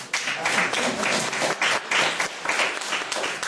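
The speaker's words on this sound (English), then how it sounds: "So I think that's worth a round of applause." A room full of people clapping at an NAACP meeting, loud and close, in bursts that swell and dip across the few seconds.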